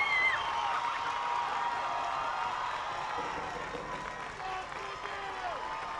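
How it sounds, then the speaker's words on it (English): At a high school football game between Plymouth South and Quincy, the stadium crowd roars and applauds in a sustained wash that eases slightly midway, while a commentator talks over it. "Now, crowd getting into it, as you can hear."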